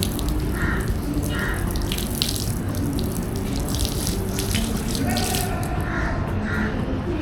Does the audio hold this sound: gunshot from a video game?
no